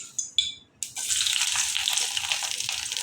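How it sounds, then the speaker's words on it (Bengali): Fish cooking in a pan with a steady, broadband sizzle and crackle that starts after a couple of short splashy bursts and carries on loudly to the end, close to the microphone. "এই যে এখন মাছটা রান্না করতেছি।"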